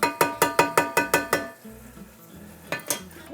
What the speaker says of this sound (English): you have to stir it for the first 2-3 minutes